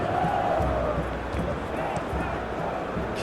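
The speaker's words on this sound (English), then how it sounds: "Well, the crowd aren't happy." A stadium crowd in the PES 21 football video game murmurs and groans in disappointment during a Brazil versus Portugal match, a steady dense roar sitting under commentary that continues throughout.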